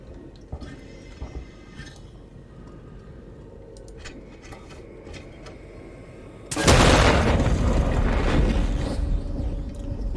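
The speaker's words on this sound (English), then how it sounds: "I guess I'm gonna blow up this fissure." A bomb blows up a rock fissure in the Alien Isolation game: after quiet dripping ambience, a sudden loud explosion erupts and leaves a rumbling roar that slowly fades.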